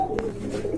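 A pigeon gives a short, close coo, one throaty burst over steady low room noise, from a pair of full-quality pigeons offered for sale.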